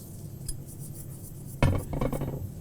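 Nut milk pulp and coconut pulp stirred together in a bowl, a sudden utensil clink followed by a few close scraping, clattering strokes against the bowl.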